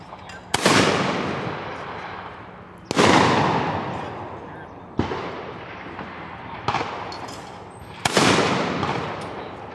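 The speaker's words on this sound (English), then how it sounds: "This was my first time skeet shooting, and I got 1 out of my 4 shots with the Beretta." Five loud Beretta shotgun blasts go off at a skeet shooting range, spaced a couple of seconds apart. Each sharp report rings out with a long decaying echo across open ground.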